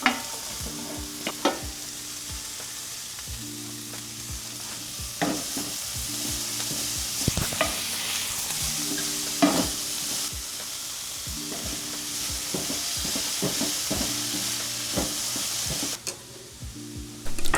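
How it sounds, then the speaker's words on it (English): Carrots with freshly grated ginger cook over low heat in a pan, giving a soft, continuous sizzle with frequent scraping clicks from stirring, all at a quiet level and without speech. "you want to cook it at low heat. And keep on stirring."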